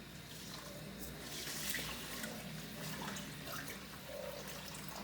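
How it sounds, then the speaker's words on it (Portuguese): Water poured from a tap into a cooking pot holding black rice and garlic, a steady, soft rushing splash that runs unbroken, with no voices. "e completo de água."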